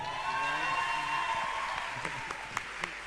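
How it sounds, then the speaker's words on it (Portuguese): Applause from an audience at a technology and innovation event greets a doctor introduced to lead a panel, a steady wash of clapping under a faint tonal backdrop, with a few sharper individual claps near the end. "Uma salva de palmas para o doutor."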